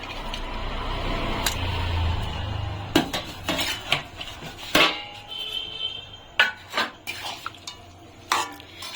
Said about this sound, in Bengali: এখন আমি এর মধ্যে মাছ ভাজা আর বেগুন ভাজাগুলো দিয়ে দিচ্ছি